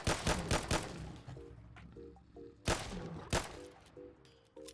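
A small pistol fires at a Deathclaw in Fallout 4: quick bursts of sharp shots, three close together at the start and more spaced later, with faint electronic blips between them.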